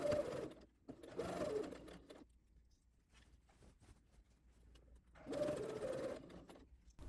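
Domestic sewing machine stitching an elastic neckline channel on a milkmaid-style dress, running in two short bursts of steady whirring with a quieter pause of faint clicks between, close and moderately soft.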